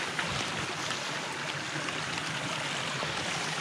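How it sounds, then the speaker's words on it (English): A coastal creek flowing steadily and close, a dense, even rush of water with no pauses, heard alone without talk. "We're back down to the creek."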